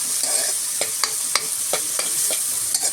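Finely chopped onion fries in a pan for paneer masala, a bright, constant sizzle broken by regular scraping strokes of a spoon stirring it, close and with no voices.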